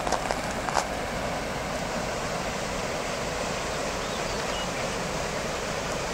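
Steady, broadband rush of fast-flowing floodwater along Highway 3 near Spotted Lake, continuous and fairly loud, with a couple of brief knocks near the start.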